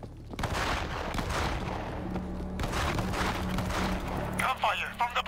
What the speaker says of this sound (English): Gunfire from the bus!